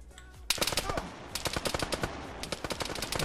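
Rapid automatic gunfire in an online shooter video game, a dense burst of close, loud shots starting abruptly and continuing in quick rattling volleys.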